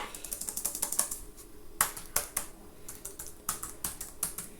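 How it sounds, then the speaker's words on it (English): Rapid, uneven clicking of keys being typed on the small, glossy, numpad-less keyboard of an Asus EEE Top 1602 all-in-one PC, close and fairly crisp, with a few brief pauses between bursts. "Feels about as nice to type on as it looks."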